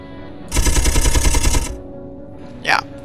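Fourteen chain guns on a Space Engineers ship fire together, making a loud, dense automatic burst of rapid shots that lasts about a second, then stops. A short whooshing sound follows.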